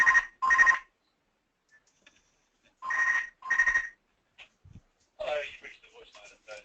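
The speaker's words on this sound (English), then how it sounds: "Sorry about the unscheduled interruption of my desk phone" A desk telephone rings in an office, two pairs of electronic double trills separated by silence, followed by someone speaking.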